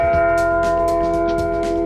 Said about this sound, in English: We rang the Liberty Bell.